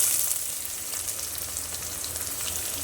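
Chopped onion with green chilli and curry leaves sautés in a pan for matki rice, giving a steady, even crackling sizzle with no voices.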